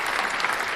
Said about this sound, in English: Give her a round of applause for Angel out there.